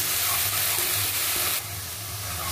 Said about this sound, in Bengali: পেঁয়াজ বাটাটা দিয়ে কিছুক্ষণ পেঁয়াজ বাটাটা ভাজবো